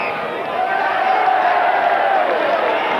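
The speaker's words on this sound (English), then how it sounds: "the Newport crowd incensed" A Newport rugby crowd at a 1986 quarter final against Swansea roars in protest, a dense, steady wall of many voices that holds loud and unbroken throughout.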